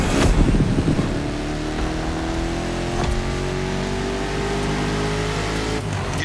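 A 1969 Ford Mustang Boss 429 V8 in The Crew Motorfest, roaring loud and close, climbing steadily through the revs with a rising engine drone and a brief burst of tire noise at the start.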